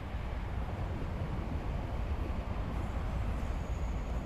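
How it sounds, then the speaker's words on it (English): A train passes at night on a remote route toward Mohe in northern China, heard as a steady, muffled rumble that holds at an even level throughout, with no voices. "Until suddenly a train appears in the night"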